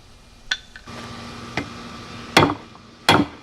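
A hot chisel being hammered to work its tip, with a few sharp metallic strikes at irregular intervals, two of them loud and ringing, over a low background hum.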